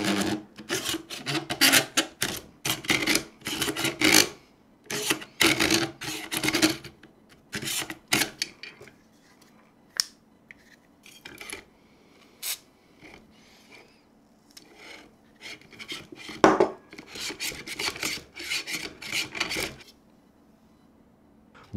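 FeiyuTech Scorp Pro gimbal arm forced through stiff, gritty resistance, giving a run of dry rasping scrapes and clicks like metal grinding on metal, close and fairly loud, in bursts with short pauses.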